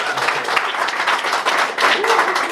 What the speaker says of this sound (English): have a round of applause for our favourite podcast guest ever, Brian Blessed, please.